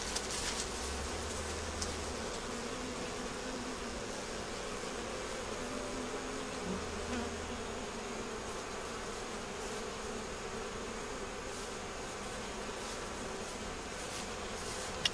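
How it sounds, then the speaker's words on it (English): Honeybees buzz steadily around a backyard hive during hive cleaning, a dense continuous drone at even loudness throughout, with no talking. "Hold on a second, watch the bees."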